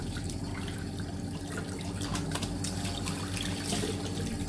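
Water streams from a bathroom tap while face wash is rinsed off the skin, a steady close splashing flow with small irregular splats as hands move through it, no voices.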